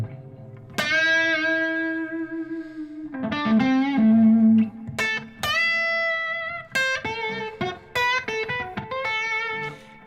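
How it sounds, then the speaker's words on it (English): Electric guitar runs through a tube amp with reverb and delay, playing sustained melodic notes and short phrases whose ringing tails linger and repeat, loud and close, with no talking. "I put that with some reverb on that little bit and put a little delay on it."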